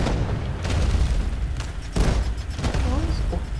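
Cannon shots boom out in the Roblox pirate game Pirate Clash, a couple of heavy blasts among continuous game noise, with a person talking over them.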